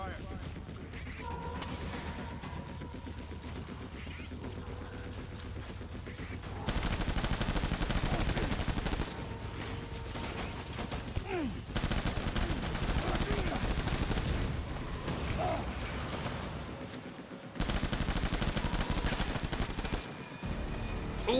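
Rapid bursts of gunfire in the video game Death Stranding, a World War I battle scene, crackle loud and dense throughout with surging volleys and little letup.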